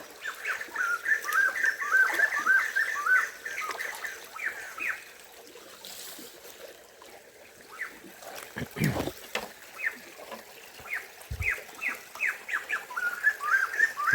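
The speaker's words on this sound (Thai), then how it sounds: "มาจุดนี้ได้มีแต่เสียงนกพี่น้อง" Several birds chirp and twitter in forest, in short bright bursts at the start and again near the end, with a quieter stretch and a few low knocks between; faint trickling water sits underneath.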